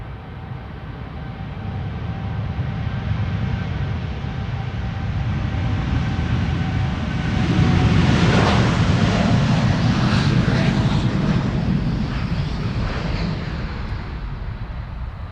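A large airliner takes off from a runway at Amsterdam Schiphol, its jet engines building into a loud, broad roar that swells around the middle and stays strong as it climbs away.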